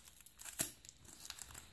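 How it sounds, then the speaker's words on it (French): Tape is peeled off a trading card Duopack, making crinkly tearing and crackling rips close to the mic. One sharper pull stands out among the quieter plastic rustles. "on va enlever le scotch ensemble"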